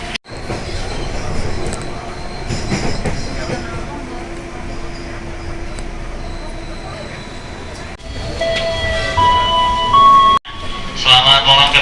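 A KRL commuter train pulls out of Duri station, a steady rumble of wheels and car noise running throughout with tonal squeals and a brief electronic chime near the end, while voices murmur beneath.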